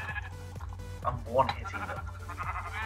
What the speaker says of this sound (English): I see a lot of sheep.